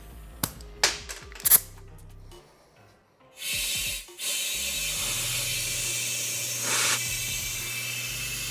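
A few sharp clicks and rattles from handling an RC drag car tire, then a compressed-air hose blasts into the tire with the valve core removed, giving a loud, steady hiss that runs several seconds, close up.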